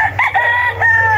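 A rooster crows loudly and close at a chicken market, with a rising, wavering call that stretches over a second against a low steady hum, other fowl nearby.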